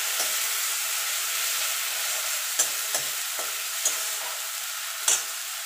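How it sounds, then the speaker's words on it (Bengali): Onion with ginger garlic paste sautéing in a pan, a steady close sizzle with a few sharp clicks and scrapes of a spatula stirring at irregular intervals. "এবার আদা রসুনের কাঁচা গন্ধটা যাওয়া পর্যন্ত একটুখানি কষিয়ে নেব।"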